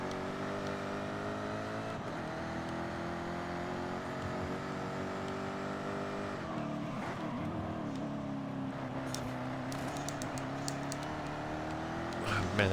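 A 2015 Jaguar F-Type R Coupe in Forza Horizon 5 drives with a continuous engine drone, shifting pitch as it accelerates and eases through a turn, with faint tyre noise and no clear talking.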